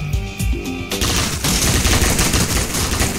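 Dense, rapid gunfire in Roblox Military Tycoon crackles continuously after a brief opening of game music and effects, loud and close with overlapping bursts.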